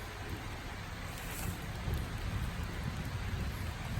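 Steady rain falls, a soft continuous hiss of drops with no voices, fairly faint and even throughout.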